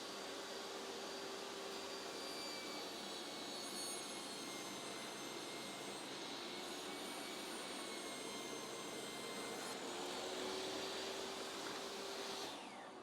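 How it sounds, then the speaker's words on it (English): A table saw ripping a 3 3/4-inch strip off a wooden board, a continuous high whining roar that holds steady throughout at low level and cuts off near the end. "So 3 inches and 3/4 on the table saw will rip a strip off."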